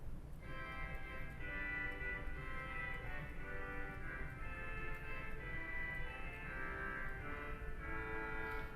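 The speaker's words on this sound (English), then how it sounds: "We've got a Voix Humaine." A Voix Humaine reed stop on a large 121-rank pipe organ sounds a thin, buzzy line of held notes moving slowly, soft and continuous, with no voices.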